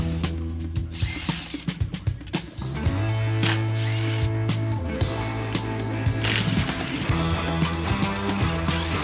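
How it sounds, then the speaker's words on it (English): Power tool or ratchet whirring off 10mm bolts on the rear cargo tie-downs of a Ford Bronco, short clicking bursts followed by a steadier mechanical drone with a sustained tonal hum over several seconds, loud and close. "Remove 8 10mm bolts from tie-downs."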